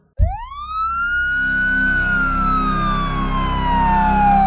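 An ambulance siren wails loudly and close, rising sharply at the start and then holding a long, slowly falling tone over a steady rumble of traffic, with no voices.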